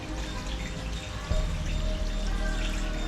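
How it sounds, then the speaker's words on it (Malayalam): Water splashing and pouring continuously from a motor-driven fountain, with a low pump hum underneath and a brief thump partway through; no speech. "വാട്ടർ ഫൗണ്ടെയിൻ ഇവിടെ അതിന് മോട്ടോടുമ്പോൾ വെള്ളം പോകുന്നുണ്ട്"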